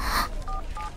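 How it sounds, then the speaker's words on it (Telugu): Telephone keypad dialing in a comedy film scene, two short clear touch-tone beeps following a brief burst of noise, close and fairly loud. "ముందు శ్రీకాంత్ ఫోన్ చేయి."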